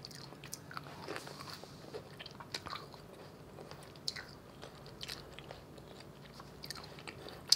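Close, quiet bites and soft crunchy chewing of a macaron repeat irregularly, with small crisp snaps scattered through a steady, moist mastication.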